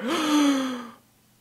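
A single voice imitates a theater audience gasping in unison at a shocking movie moment: one sharp, close inhaled gasp that trails off into silence.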